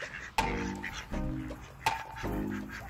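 Ducks quack loudly and close by while being fed bread, several harsh, raspy calls in uneven bursts with brief pauses between them.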